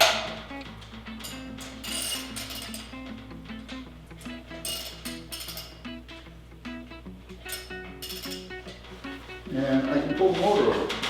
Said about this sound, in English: I can put a 1/2-inch drive down into this blower here